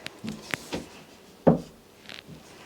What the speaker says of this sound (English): Want to close the door, see how it looks?